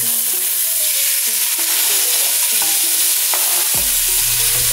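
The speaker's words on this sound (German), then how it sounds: "Wir arbeiten hier mit festkochenden Kartoffeln, die ebenfalls kurz sauteert werden." Waxy potatoes sauté in a hot pan for an Indian cauliflower dish, a continuous loud sizzle with intermittent stirring and scraping, no talk over it.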